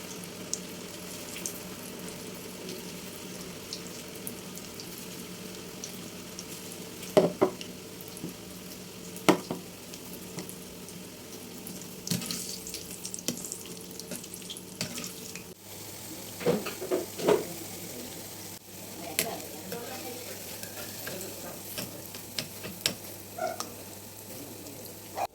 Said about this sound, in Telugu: పకోడీ వేసినప్పుడు చేయి చూసుకొని పొంగిపోతుంది ఆయిల్ చేతిలోకి